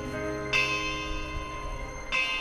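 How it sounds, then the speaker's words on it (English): A bell rings twice, each strike bright and ringing out with a long, humming decay between them. "The ringing of the division bell had begun."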